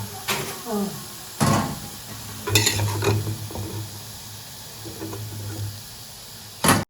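Potato balls frying in a pan of oil give a soft sizzle beneath louder clinks and scrapes of a metal utensil against the pan, with irregular clatters coming close and sharp.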